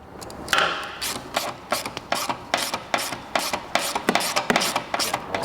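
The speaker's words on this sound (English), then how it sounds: "put the combination wrench on there and tighten that nut back in place" A combination wrench tightens a nut on a Piaggio BV400 scooter, giving a steady series of sharp, close ratcheting clicks at an even rhythm.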